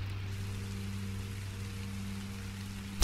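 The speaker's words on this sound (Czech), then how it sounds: "dá se vypnout zvuk pršení" Steady rain in the Minecraft: Story Mode game falls as a soft, constant hiss over a low hum, alone with no talk, ending in a brief louder burst.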